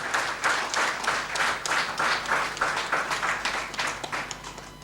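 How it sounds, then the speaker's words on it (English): An audience at a lecture applauds a reverend with steady, rhythmic clapping from many hands, moderately loud and a little distant, continuing for several seconds and easing off slightly at the end. "Let's give another round of applause to Reverend Perrin."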